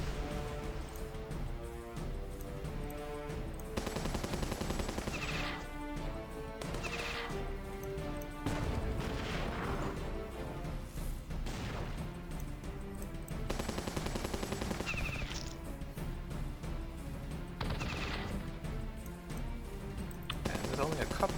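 Machine gun fire in the war strategy game Battle Nations comes as repeated bursts of rapid shots, mixed with explosions and crashes over a continuous loud game music bed.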